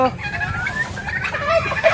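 Clucking, gobbling turkey calls sound close by, overlapping in a busy chatter with faint voices underneath.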